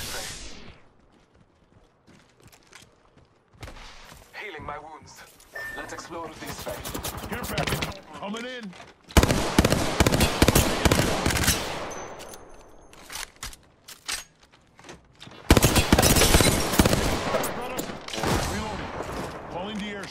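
Gunfire in a video game shooter, loud bursts of rapid shots in several long volleys separated by quieter gaps, with someone talking over the action.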